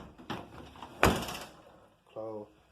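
A 1982-92 Camaro door fitted with flush door handles clicks open in a single sharp latch release, followed by a brief separate creak or squeak, all close up in a quiet garage.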